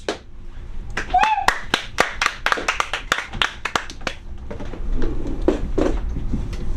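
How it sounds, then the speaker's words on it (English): Scattered, uneven clapping from a small comedy club audience greets a comedian, with distinct individual claps and a voice talking over parts of it. "That's way too much applause, audience."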